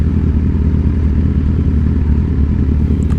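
Motorcycle engine held at a steady, loud, close drone with a rough clattering edge while the rider pulls a wheelie, with no voices.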